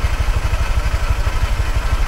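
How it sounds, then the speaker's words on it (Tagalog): A motorcycle engine idles with a steady low, rapid throbbing pulse and light clatter, close and continuous throughout, with no voices. "yung ating motor"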